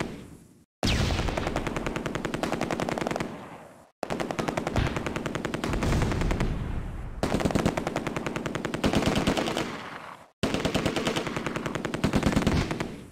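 Long bursts of .30 cal machine gun fire from the WWII strategy game Close Combat, four sustained rapid volleys of about three seconds each separated by short silences, loud and close.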